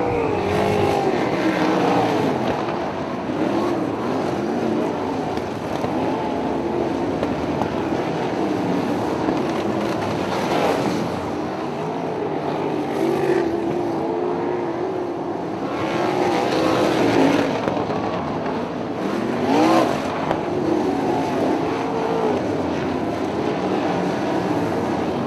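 Race cars at Valley Speedway roar out of turn four in a dense pack, a continuous loud engine drone rising and falling as cars pass, with no voices over it.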